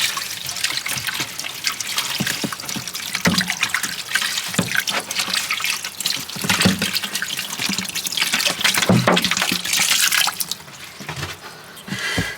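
Water poured from a jug splashes and trickles steadily over potatoes being rinsed in an outdoor sink, with continuous close-up splattering and draining.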